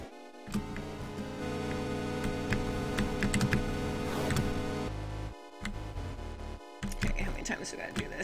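Rapid, forceful typing on a computer keyboard, the keys hammered in quick uneven bursts alongside steady game music and ambient sound throughout.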